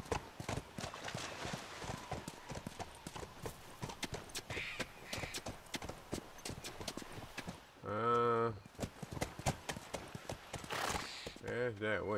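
Horse hooves clip-clop in a steady rhythm in The Last of Us Remastered, close and clear, with a horse whinnying loudly twice and talking heard over much of it.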